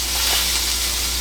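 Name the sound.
venison sirloin tip searing in a pan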